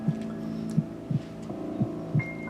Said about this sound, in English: Oh, I love that heartbeat.